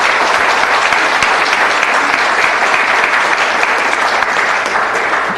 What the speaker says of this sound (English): So let's give them a big round of applause for that.